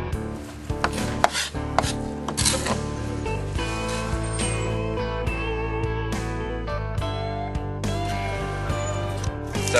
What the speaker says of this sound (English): He's cutting the veins out.